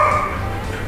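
A Welsh Corgi gives a single short bark, close and loud, followed by a brief ringing tail.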